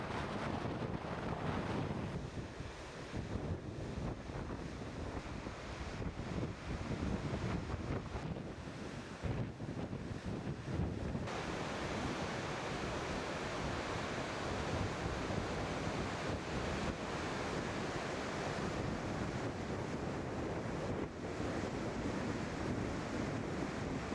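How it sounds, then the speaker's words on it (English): Steady, loud rushing roar of the Salto Grande waterfall, where Nordenskjold Lake pours into Pehoe Lake in Chile. Gusts of wind buffet the microphone throughout. "Nordenskjold Lake empties into Pejoy Lake through the Salto Grande waterfall."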